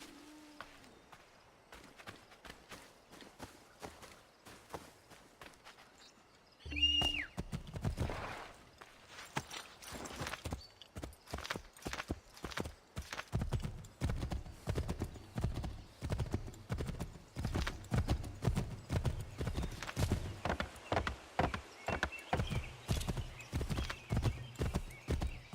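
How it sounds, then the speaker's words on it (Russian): A horse's hooves in the video game Assassin's Creed III: sparse, quiet steps first, then loud rhythmic clip-clopping that settles into a quick, steady gait for the rest of the stretch. "Лошадь, ты куда опять убежала?"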